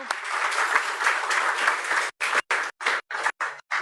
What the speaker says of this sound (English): Put your hands together for the city leadership, please.